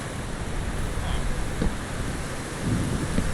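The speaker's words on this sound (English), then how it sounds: "The developing storm." A Minecraft thunderstorm: steady, dense rain hiss fills the scene, with soft low rumbles of thunder swelling in the distance.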